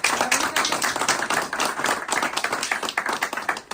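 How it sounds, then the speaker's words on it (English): An audience at a mentor talk gives a guest speaker a round of applause, with brisk, fairly close clapping running continuously for a few seconds and no talk over it. "We're just going to give him a round of applause for everything."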